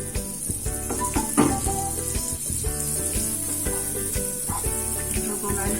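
Butter melts and sizzles in a hot pan while a cheese and paneer sandwich is made, a steady loud crackle and hiss with faint clinks and occasional stirring.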